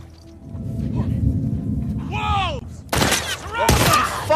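Gunfire from The Last of Us Part II, a few sharp, loud shots in quick succession over a low rumbling game background, arriving near the end.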